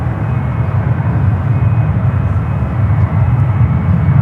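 An airliner on approach to runway 28 at San Francisco International Airport gives off a loud, steady roar of jet engines that holds without a break.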